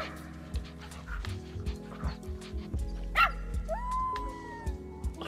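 A dog gives a few short yips and barks and then a high, drawn-out whimper, all close by over a background of speech and music.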